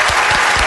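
A studio audience claps for a musician at a radio show, a brief, loud burst of steady clapping with no voices over it.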